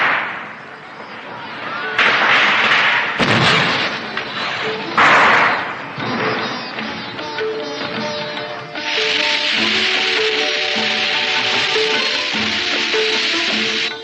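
Firecrackers set off during a scene in a 1981 Hindi action film, heard as loud, sharp bursts and cracks over a dense film soundtrack, with a sustained bright crackling stretch toward the end.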